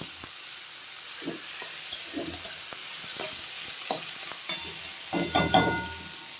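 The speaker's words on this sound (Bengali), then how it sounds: "এখন পেঁয়াজ আর মূলোগুলো দিয়ে দিলাম একসঙ্গে।" Onion and radish pieces fry together in a pan, making a soft sizzle with intermittent scraping and knocking as they are stirred, several sharper clatters near the end, no speech.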